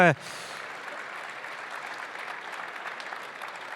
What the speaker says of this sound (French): Merci Romain, on peut vous applaudir.